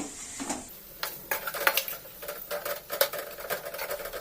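Raw banana pieces are stirred through a spiced tamarind fish curry in a pot, irregular scraping and clinking strokes of a spoon against metal over a faint simmer, close by with no speech.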